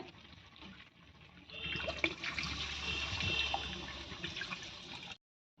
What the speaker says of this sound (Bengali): মাংসটাও কষানো হয়ে গিয়েছে জল দিয়ে দেবো এবার